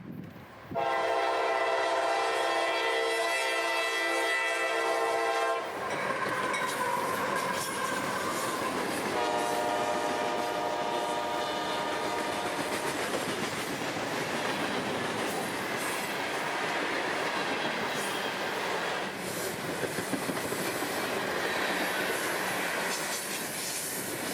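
A freight train hauling over two dozen loaded rock cars rolls south along the S-Line in Central Florida; a loud horn sounds, then a long steady rumble and clatter of wheels on rails passes close by.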